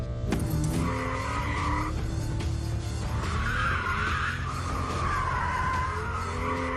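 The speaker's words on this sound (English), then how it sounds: "Poke the back out and hold it there." A car drifting on a race track with its tyres squealing and skidding loudly, shifting screeches layered over the roaring engine and revving throughout, close and sustained.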